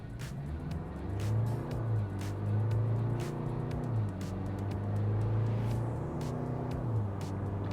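Isuzu D-Max pickup with the new 2.2 Ddi MaxForce diesel engine driving along, a steady low engine drone with road rumble and some tonal shifts as it moves, with no talk.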